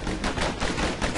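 Rapid pistol gunfire from the video game Bastion, a dense burst of repeated shots fired close and loud with no pauses and no talking.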